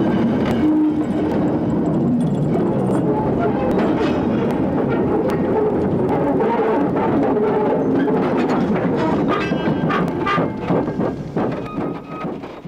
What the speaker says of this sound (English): Even the sound of wheel running on rail in the classic age was different.